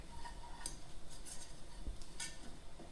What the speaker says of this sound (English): you want to cook it another couple minutes, stirring it constantly to cook that flour